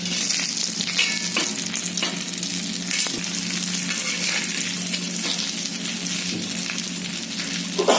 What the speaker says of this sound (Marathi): खूप सुंदर फ्राय झाले एकदम कमी याच्यात मध्ये ते व्यवस्थित झाले बघा